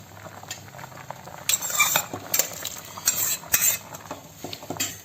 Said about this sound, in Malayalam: ഇനി അതിലേക്ക് നമ്മൾ വേവിച്ച് വെച്ചിരിക്കുന്ന ആ പരിപ്പ് ഒന്ന് ചേർക്കും.